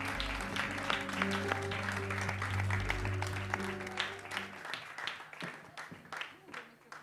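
Audience applause for the singer fills a studio performance, dense clapping over a lingering low musical tone that drops away midway, leaving the clapping alone.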